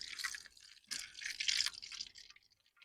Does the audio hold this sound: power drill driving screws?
no